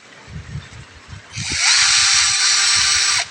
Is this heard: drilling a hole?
yes